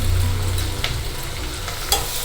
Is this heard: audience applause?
no